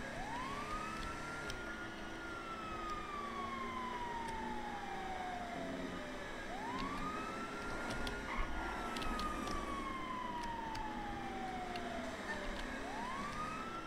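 Police car siren in a police video game, wailing in long rising-and-falling sweeps that repeat about every six seconds, loud and steady over a constant engine and traffic rumble, with no talk.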